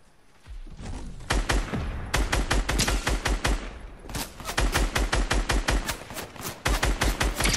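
Fortnite gunfire sounds as fast, sharp automatic volleys of evenly spaced shots, close and loud, running in dense bursts through almost the whole stretch.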